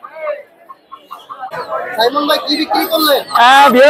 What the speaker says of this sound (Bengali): আজকে বিক্রি করেছি দেশি মুরগি, জি বাচ্চা সহকারে দেশি মুরগি